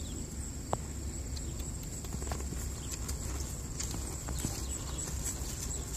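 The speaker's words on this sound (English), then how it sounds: "when I trot my horse off, I'm saying in my head, right, left, right, left" Horse hooves trotting at a training center, a quick regular clip-clop of footfalls close by, steady and moderately loud over faint background noise, with no talking.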